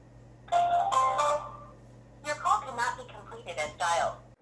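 A repeating telephone ringing tone on a call to Walmart, two long bursts with a pause between, fairly close and clear over a low steady hum.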